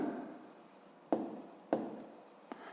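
A pen scratches across paper while working a fifth-grade maths exercise, giving quiet soft strokes broken by three sharp taps as the pen lands or lifts, alone in a hushed room.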